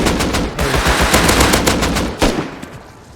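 Rapid automatic gunfire in the survival video game Rust during a raid fight, loud bursts of closely spaced shots with a brief pause before a final sharp report.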